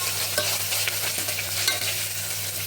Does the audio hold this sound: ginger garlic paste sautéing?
yes